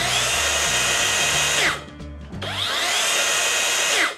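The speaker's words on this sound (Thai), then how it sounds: "ตัวนี้เขาจะมีระบบซอฟต์สตาร์ทนะครับคือออกตัวเนี่ยยังไม่ได้กระชากออกนะจะเหมือนแบบวืดออกไปทีละนิดนะ" An Osuka cordless circular saw rated at 6,500 RPM winds up gradually under its soft-start motor, settling into a loud, steady whine that dips and briefly cuts out, then ramps up again to full speed, close and alone.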